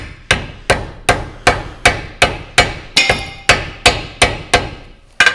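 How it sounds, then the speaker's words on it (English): A hammer strikes a seized part on an old vehicle left 33 years in a hedge, landing about a dozen sharp metallic blows at an even, steady rhythm, loud and close with no talking. "Unbelievably, that actually does move if you hit it with a hammer."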